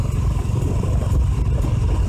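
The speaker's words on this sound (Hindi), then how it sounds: "नई बाइक की सवारी कर रहे हैं" An RTR 200 motorcycle ridden at night on a dark road, its engine humming loud and steady from the rider's position, mixed with wind rush and slight rattling.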